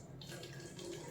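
Water is poured from a bottle into a glass in a short, faint, steady trickle and splash, heard alone and close.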